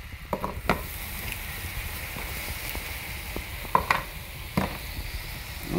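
Scallops sear in a hot pan set around medium heat, giving a steady broad sizzle with scattered crackles and pops, close and fairly loud, while a lobster boils nearby.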